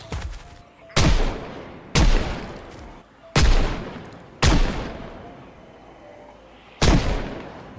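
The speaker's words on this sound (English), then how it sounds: "Use our gun to try and draw more of them out." Six sharp gunshots ring out from a firearm in the zombie survival game Project Zomboid, spaced about a second apart, each loud with a long echoing decay.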